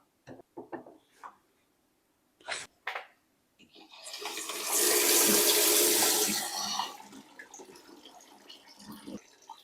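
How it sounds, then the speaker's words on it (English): After some clicks and handling noises, a ceramic disc tap is turned on and water gushes loudly for a couple of seconds before easing into a lighter trickle with small knocks. "We then switch the water back on."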